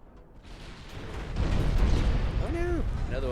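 Torpedo hits on a ship in the video game Ultimate Admiral: Dreadnoughts, a deep rumbling blast that swells and holds loudly, with a voice speaking over the roar near the end.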